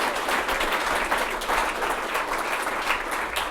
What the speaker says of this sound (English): big round of applause right here